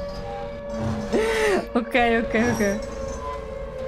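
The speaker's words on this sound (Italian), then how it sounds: "Ok, suona la sirena, siamo nell'Overworld." Wailing siren from the Silent Hill 2 video game, rising and falling in long howling sweeps, fairly loud, with someone speaking over it.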